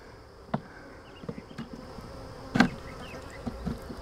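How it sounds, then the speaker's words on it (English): Honey bees buzz around a beekeeper's veil during a backyard nuc transfer into a ten-frame hive, a faint steady hum with a few brief louder passes near the mesh, no voices. "And I got one wanting to buzz my veil here."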